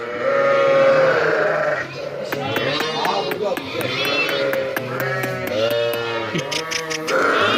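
Kangal Akkaraman sheep and their twin lambs bleat repeatedly, some close and loud, with high wavering calls overlapping, while a person talks nearby.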